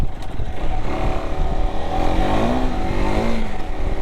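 A car driving on a gravel road in Queensland, its engine droning steadily with shifting revs and a continuous rumble of tyres over loose stones, close and loud throughout without talk.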